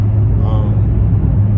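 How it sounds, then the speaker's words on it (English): A BMW F10 M5 with a stage 2 tune idles while warming up, a loud steady low engine rumble holding throughout. "I'm gonna let the car warm up."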